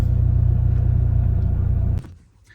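A 2005 R53 Mini Cooper engine rumbling loudly and steadily up close, a low droning note that holds for about two seconds before cutting off abruptly into near quiet.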